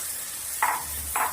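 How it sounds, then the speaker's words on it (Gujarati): Spinach puree stirred into dry-roasted spices in a pan, heard as two short, soft scraping strokes about half a second apart over a quiet background, with no talking. "આપણે પાલકની પ્યુરી છે એ નાખી દેવાની છે."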